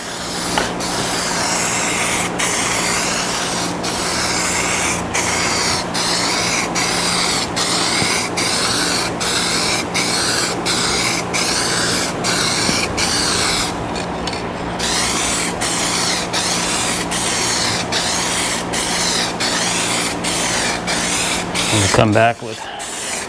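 A spray gun lays paint on a salvaged Scion tC in a steady hiss, broken by short regular bursts, with a brief voice near the end.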